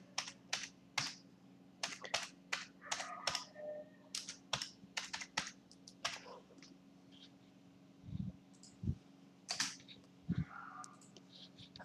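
Someone types on a computer keyboard in short, irregular bursts of soft clicks, quiet and close, with a few heavier key thumps toward the end.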